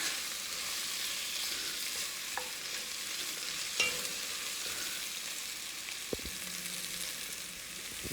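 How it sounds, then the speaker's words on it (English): Onion, carrots and other vegetables sauté in fat for beef bourguignon, a soft continuous frying hiss with a few faint utensil clicks, no talking. "Saute around."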